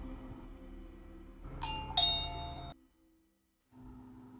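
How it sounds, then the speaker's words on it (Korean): A doorbell rings at a home, two bright ding tones struck in quick succession that ring out for a moment before cutting to near silence, then faint room tone resumes. "A씨의 집 초인종이 울렸다"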